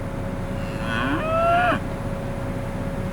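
A single cow moos once at a cattle sale in Alabama, a drawn-out, rising and falling call lasting about a second, over a steady low background hum.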